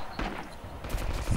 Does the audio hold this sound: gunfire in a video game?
yes